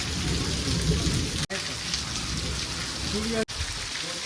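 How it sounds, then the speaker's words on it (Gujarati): Dense, heavy rain pours down steadily in a constant loud hiss, with no talking. "અત્યારે ફૂલ વરસાદ આવે છે"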